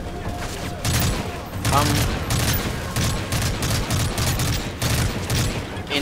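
Machine gun fire in Call of Duty: Modern Warfare 3, loud repeated bursts of rapid shots with booms mixed in, while someone speaks briefly over the shooting.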